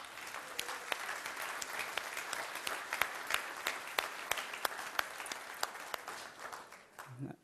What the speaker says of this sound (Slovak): poprosím vás o veľký potlesk